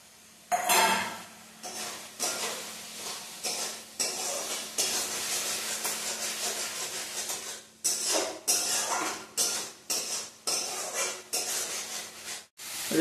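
Fried potato and mushroom are tipped into a curry pan, bringing repeated utensil clinks and scraping stirs over a soft background sizzle.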